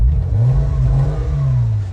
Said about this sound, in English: first we're gonna start the car because I do love how this engine sounds